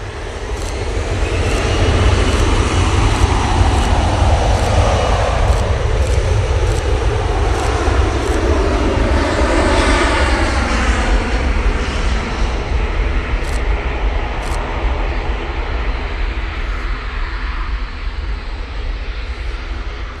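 A KLM airliner departs Manchester Airport, its engines giving a loud, steady jet roar that sustains for about twenty seconds with a slowly shifting whine, heard without talk.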